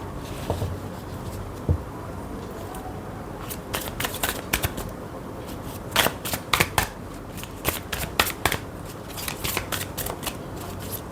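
Intuitive oracle cards are shuffled by hand, giving bursts of crisp riffling and flicking at an uneven rhythm with quieter gaps between, close and fairly soft, without talking.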